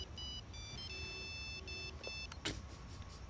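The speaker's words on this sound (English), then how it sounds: "The fucking ringtone." A mobile phone ringtone plays faintly from a TV drama, a series of electronic tonal beeps in short repeating phrases over a low background hum, ending with a brief clunk.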